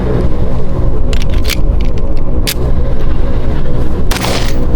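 A 1911 pistol fired at an outdoor zombie-target shooting range, with a few sharp, loud shots in quick succession against a heavy rumbling background.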